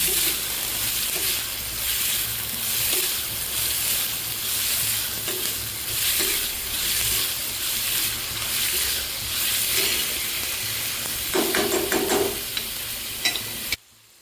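Onions sautéing in olive oil for chana masala, a steady loud sizzle and frying hiss with rhythmic stirring scrapes throughout, ending abruptly.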